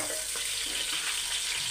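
Mutton stock sizzles and spatters steadily as it fries in a pressure cooker for pulao, close up and continuous, with no talking.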